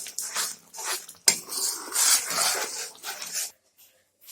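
A spoon scrapes and clinks against a pan while cabbage chhyanka cooked with sidol is mixed with mustard oil, giving close, busy rhythmic stirring with one sharp knock, then stopping abruptly into near silence.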